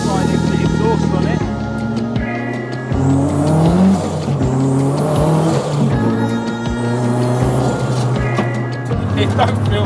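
A 277bhp turbocharged Austin Metro race car revs hard, its engine note rising and falling in loud, sustained bursts with sharp breaks between pulls, close up, with voices talking over it.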